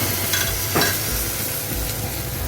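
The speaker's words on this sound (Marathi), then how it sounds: "मस्त फ्राय झाले पाहिजेत आंब्याचे फोडं" Large pieces of raw green mango frying in a pan with spices, a continuous close sizzle broken by a couple of scraping stirs of a spoon against the pan.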